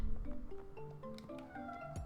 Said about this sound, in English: Sorry if you guys hear my cat.